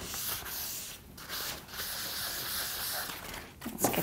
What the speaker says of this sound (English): See the paint that's coming off with the wet distressing?